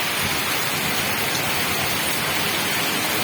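Dense, steady rush of heavy monsoon rain falling close by in North Bengal, loud and unbroken for the whole stretch.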